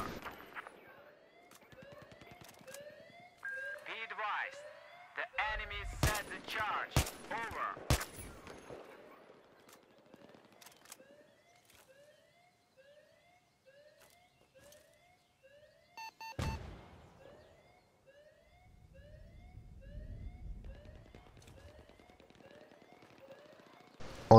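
Sniper rifle gunfire in Battlefield 3, a handful of sharp loud cracks clustered early and one more later, amid repeating electronic tones and game ambience.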